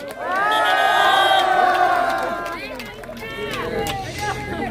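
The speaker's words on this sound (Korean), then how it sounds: "한정우 후보 다시 한번 박수 부탁드립니다" At an outdoor Korean political rally, a crowd cheers and shouts for a candidate, a loud swell of many voices that peaks early, then eases into lighter scattered shouting.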